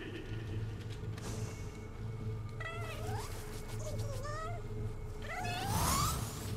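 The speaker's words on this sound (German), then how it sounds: "Okay, die Katze, die ist süß." A cat meows repeatedly in the video game Nioh 2, with several rising, drawn-out meows over a steady low game ambience and no talking.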